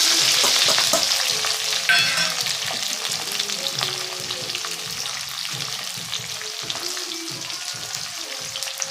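A paste of ground onion and green chili with ginger sizzles loudly in a pan for upma, a steady crackling fry with bursts of stirring and scraping throughout, no voices.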